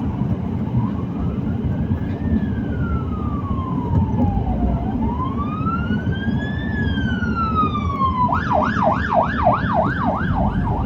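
An ambulance siren wails through city traffic, loud and close, sweeping slowly up and down in long wails before switching to a fast, rapid yelp near the end, with steady road noise underneath.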